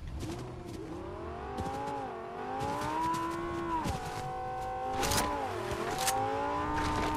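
A car driven in the Fortnite video game, a continuous engine drone rising and falling in pitch as it revs and shifts, with occasional tire squeal and thumps, fairly quiet with no talking.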